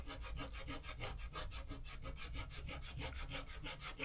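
Steady back-and-forth rasping as knife sheath material is roughed up, a continuous dense scraping stroke repeating about four times a second, close and loud with no talk.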